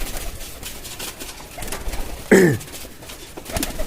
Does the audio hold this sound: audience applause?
no